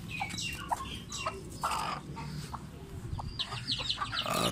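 A hen clucks several times nearby, short throaty calls over a steady background noise.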